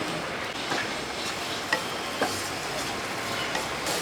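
Jaggery powder being stirred in a pan while cooking a Kerala-style evening snack, giving a steady scraping, rustling texture with a few light clicks of the spoon against the pan.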